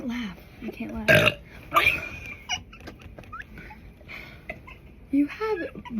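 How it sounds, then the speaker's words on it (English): Loud, raspy burps from a girl in a casual burping contest at home, several bursts spaced over a few seconds with talk and laughter between them. "I really need to burp."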